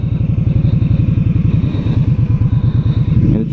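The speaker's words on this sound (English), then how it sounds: "I really didn't want to drive this motorcycle" Close, loud V-twin engine of a 2016 Indian Scout motorcycle while riding, throbbing in a fast, even pulse for a few seconds before a brief clunk at the end.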